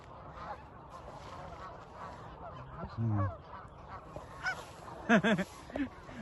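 A flock of ducks in an open field calls out with a few brief nasal quacks and honks, mostly mid-distance, the loudest burst near the end over a quiet outdoor background.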